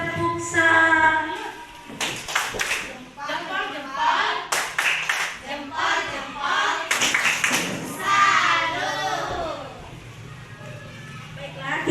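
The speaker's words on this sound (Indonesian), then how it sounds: "Tepuk tangan." A group of teachers standing at a school gathering claps along in rhythmic bursts, hand claps interleaved with a lively voice talking over them.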